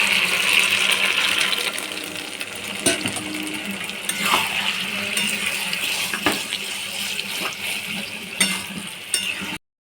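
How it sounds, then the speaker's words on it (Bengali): Water is poured into a pan of chilli chicken gravy, giving a steady, fairly loud wash of splashing and bubbling with a few small clinks throughout. "বন্ধুরা আমি একটু গ্রেভি রাখবো, তার জন্য অল্প জল দিয়ে দেবো।"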